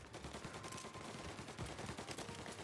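Rapid gunfire from a shootout in the video game Mafia Definitive Edition, dense overlapping bursts that are loud and continuous with no gaps.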